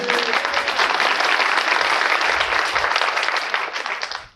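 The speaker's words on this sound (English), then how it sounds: "library crowd, they're going to clap for teachers" A live audience in a library claps for teachers, a dense burst of loud applause that holds steady and then cuts off sharply at the end.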